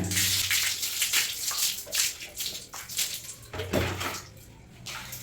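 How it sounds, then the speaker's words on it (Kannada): Running water rinses a ten-year-old bathroom tap just scrubbed clean, splashing and sloshing steadily at close range with uneven surges throughout, and no talk. "ನೀರನ್ನ ಹಾಕಿ ಈಗ ತೊಳಿತಾ ಇದ್ದೇನೆ."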